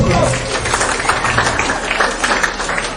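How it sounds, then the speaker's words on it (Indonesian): Audience applause at a personal development seminar: dense, steady clapping from a crowd fills the whole stretch at close range, with a voice faintly mixed in. "Tepuk tangan dulu dong buat Mbak."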